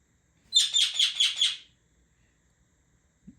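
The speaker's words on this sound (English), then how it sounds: "my bird" A pet sun conure gives a quick run of five bright, sharp chirps in a rapid rhythm, close and loud, followed by silence and a faint low thump at the end.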